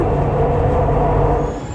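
Steady rumble and rattle from inside a Chennai metro train in motion, a continuous low drone with rail noise throughout, close and even in level, no talking.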